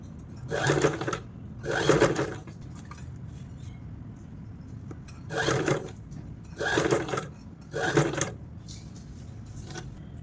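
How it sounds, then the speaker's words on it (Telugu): Electric sewing machine stitching a neck design on fabric: five short bursts of rapid stitching, each about a second long, separated by quiet pauses, close and clear with no talking. "సో ఇలానే ఇదంతా కూడా స్టిచ్ చేసుకోవాలి"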